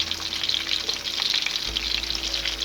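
Chicken gola kababs sizzle steadily in a pan over low to medium flame as they are turned, a soft, even crackle close by with no one speaking.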